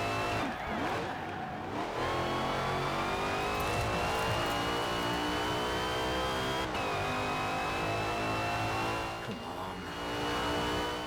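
A Daytona race car in a racing video game revs hard, its engine whine climbing steadily through the gears, dropping sharply with a shift and rising again, loud and continuous.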